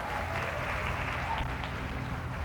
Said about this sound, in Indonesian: Tepuk tangan buat ketua kita, Igna.